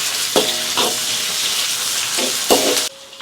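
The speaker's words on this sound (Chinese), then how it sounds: "锅中再次加油，葱姜蒜爆香，来一勺豆瓣酱" Scallion, ginger, garlic and a spoonful of doubanjiang stir-fry in hot oil for a braised lamb trotters and soybean dish, giving a steady loud sizzle with a few sharp spatula scrapes before the sound drops off near the end.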